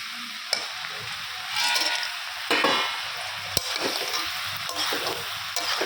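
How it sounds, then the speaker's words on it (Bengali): Bori lentil dumplings fry in oil in a home kitchen with a soft, continuous crackle and sizzle. Occasional scraping stirs and a sharp tap or two sound against the pan. "বড়িটা ভেজে রাখছি"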